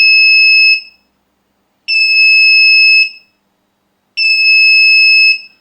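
An electronic buzzer on a digital timer control circuit sounds three times, each a loud, steady tone lasting about a second, separated by short silences.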